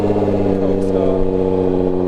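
Nissan GTR engine starting cold, a loud steady idle with dense low harmonics held for about two seconds, close up and dominating the clip.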